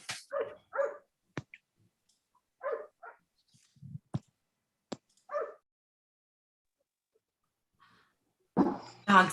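Dogs bark in short separate bursts scattered across a quiet room, a few sharp yips and whimpers with silent gaps between them, ending in a louder flurry of barking.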